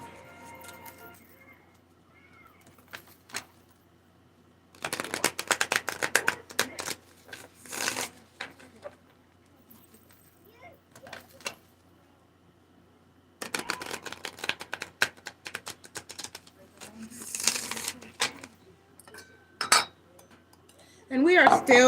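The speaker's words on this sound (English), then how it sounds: "So we're going to shuffle for a bit." A deck of tarot cards is shuffled by hand close to the microphone in several bursts of crisp riffling and flapping, separated by quieter pauses with faint handling sounds.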